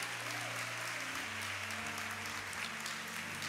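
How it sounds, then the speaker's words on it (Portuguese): A church congregation claps steadily throughout, applause spread across the hall at a fairly low level, mixed with sustained background tones. "Aplauda mais forte o Senhor."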